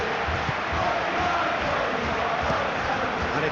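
Steady roar of a stadium crowd in a Manchester derby football video game, a dense continuous murmur with no breaks, moderately loud and even throughout.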